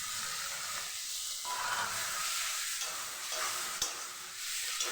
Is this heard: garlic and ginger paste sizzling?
yes